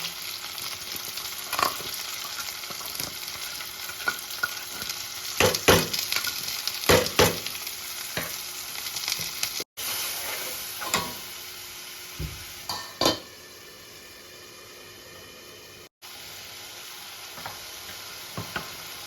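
Mutton with potatoes and spices frying in a pan, a steady sizzle under bursts of spatula scraping and knocks against the pot, close and moderately loud, then quieter frying with short gaps and no talk.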